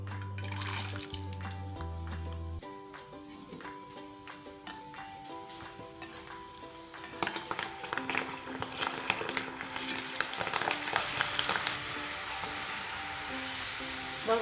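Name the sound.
chana dal frying in hot oil in a kadai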